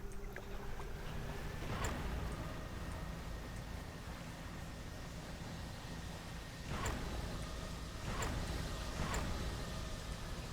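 In the fishing game Dredge, a small boat engine drones steadily at a low, even rumble, with a few brief splashes or creaks breaking through; no speech.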